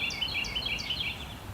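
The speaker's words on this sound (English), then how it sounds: "Boy, that bird's clear as day with that microphone." A bird singing outdoors, a repeated high chirping phrase several times over steady background traffic-like rumble, clear but moderately quiet.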